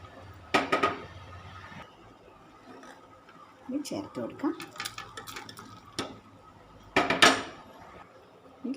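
Cooked chicken being added to a simmering coconut chicken curry gravy in a pot brings several sharp metallic clanks and scrapes of a spoon against the pot, with quieter bubbling and handling sounds in between.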